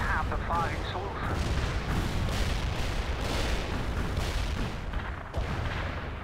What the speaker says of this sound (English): Mortars fired. Expect the impact in a few.